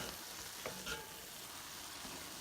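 Carrots and mushrooms cook in a pan for a beef chimichanga filling, giving a steady, soft frying hiss with a couple of brief stirring scrapes, no talking.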